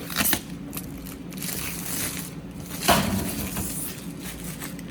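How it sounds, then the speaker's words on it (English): A plastic protective film is peeled off an MDF photo board, making a crinkly rustle with crackles and a sharper ripping burst partway through. No one speaks. "Next, you need to peel the plastic protective coating off the board."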